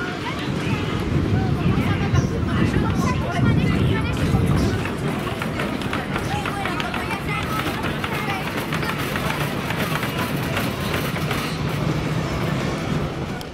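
Tomahawk wooden roller coaster train at PortAventura, a steady, loud rumble and clatter of the train on its track throughout, with riders talking over the noise.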